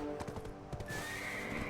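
In the Black Desert video game, a horse gives a sharp whinny over a quick run of hoof clip-clops, all packed into under two seconds at fairly close range.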